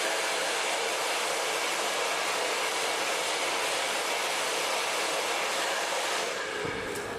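A handheld blow dryer runs steadily and close on its curls setting, drying a section of curly hair in a broad continuous rush of air that barely changes until a slight shift near the end.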